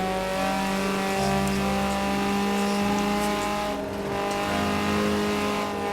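A 1986 Ford Escort RS Turbo engine in Forza Horizon 4 holds a steady loud rev with a strong harmonic drone, a brief dip near the end, and faint tire noise.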